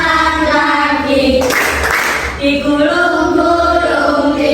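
Brief burst of hand clapping, about a second long, during a children's action song led by a teacher in a classroom, set between stretches of sung melody.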